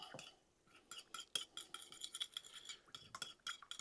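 A spoon mixes Asian-style slaw for shrimp tacos in a bowl, giving faint, irregular scraping and clinking taps spread across a few seconds, quiet and close with no talking.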